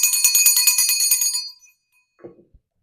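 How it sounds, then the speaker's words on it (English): A hand bell rings rapidly and brightly for about a second and a half, then falls silent, followed by a few soft handling knocks. "Now we'll use my mom's bell."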